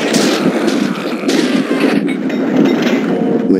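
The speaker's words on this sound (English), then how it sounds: "Someone must have heard the gunfire." Dense, sustained gunfire from a shootout in the video game Max Payne 2, with many overlapping loud shots and booms crowding together across the whole stretch.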